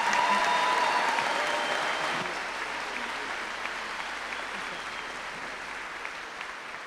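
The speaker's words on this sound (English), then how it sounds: "May we please have a round of applause." Audience applause at a Miami Trace high school graduation ceremony in 2022, a dense steady clapping from a large crowd that is loudest at the start and slowly tapers off over several seconds, with no one talking.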